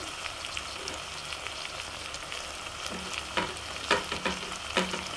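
A spoon stirs cucumber pieces with small dry fish in a curry pan over a soft, constant sizzle. Scattered scraping and clinking strokes grow more frequent toward the end.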